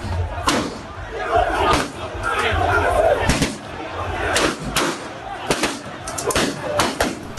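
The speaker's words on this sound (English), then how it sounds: "This video shows protest from the crowd." A protesting crowd at an election collation center in Techiman South shouts and clamors, with loud sharp bangs and cracks cutting repeatedly through the dense, agitated noise.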